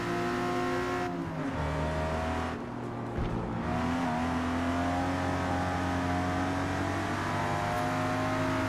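A six-cylinder muscle car on a race circuit revs hard, its engine note climbing steadily with a brief dip partway through before pulling up again, loud and close with no voices.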